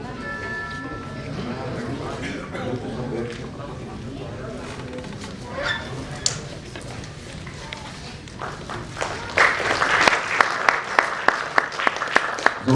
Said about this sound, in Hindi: तालियों की आवाज बड़ी धीमी आ रही है